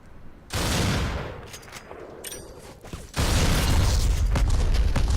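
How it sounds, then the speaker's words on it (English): An explosion in the shooter game Black erupts loudly with a deep roaring burst, followed by scattered gunfire, then a second, louder sustained blast that keeps rumbling to the end. "Oh, explosion behind me"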